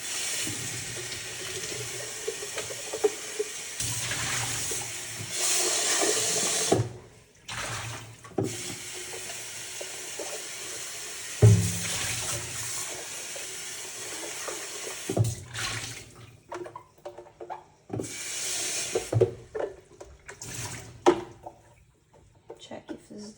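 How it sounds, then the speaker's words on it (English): Water runs from a tap in bursts, splashing and rinsing a blender jug, with pauses between flows and a voice talking at times. "now you just rinse with water"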